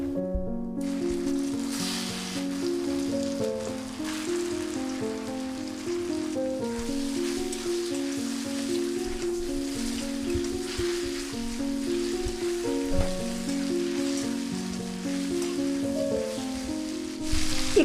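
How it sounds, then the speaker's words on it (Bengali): Elephant apple pieces tossed with turmeric and Kashmiri red chili powder fry over a medium gas flame, a continuous even sizzle like light rain, with a steady tonal melody running over it. "এখানে চালতাটা কিছুক্ষণ নাড়াচাড়া করে নিতে হবে। গ্যাসের ফ্লেমটা মিডিয়াম রেখেছি।"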